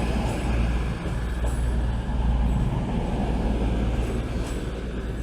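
A Cross Country Voyager or Super Voyager diesel train rolls past on the tracks at Manchester Piccadilly station, a steady, loud low rumble with rail noise that holds throughout, no speech.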